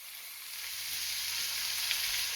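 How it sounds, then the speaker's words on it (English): A soft, steady hiss of apple cider vinegar sizzling in a hot pan, bright and crackly, rising slightly over a couple of seconds with no voices. "Hear that sizzle?"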